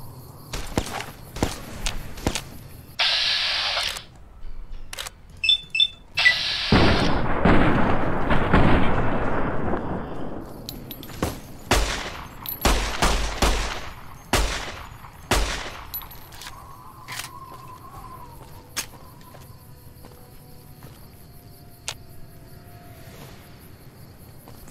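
9 mm pistol shots in the video game Fallout New Vegas come as sharp, separate cracks spread across the span, mixed with footsteps, a loud noisy burst midway and quieter ambient game sound toward the end.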